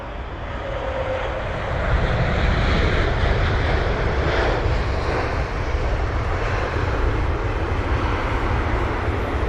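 A Kenya Airways Boeing 787 Dreamliner at London Heathrow produces a broad, steady jet engine roar, loud and continuous throughout, with no voices.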